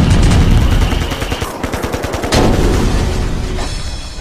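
Rapid bursts of film-scene gunfire, a loud machine-gun-like volley with booming shots and dense rattling reports filling the whole stretch, no voices.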